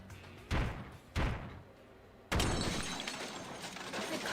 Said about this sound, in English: After a few more attempts, the door broke down with a loud crashing sound.